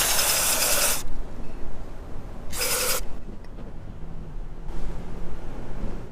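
Mass air flow sensor cleaner sprayed onto the MAF sensor of a Nissan 350Z or Infiniti G35, giving two loud, close aerosol hissing bursts of about a second each, followed by a softer, fainter spray near the end.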